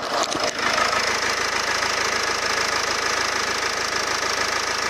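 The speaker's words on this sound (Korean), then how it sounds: "엔진 소리 한번 들어볼게요." A diesel engine of a Renault Samsung QM5 SUV idles steadily up close with the hood open, a dense, even rumble with a faint knocking texture and no voices.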